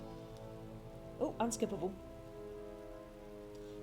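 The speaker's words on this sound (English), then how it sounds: "And now we have perma-rain here." Steady rain falls in the Final Fantasy XII video game, a constant soft wash alongside tonal background game audio, with a person briefly speaking over it partway through.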